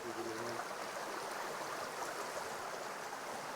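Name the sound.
stream water flowing over stones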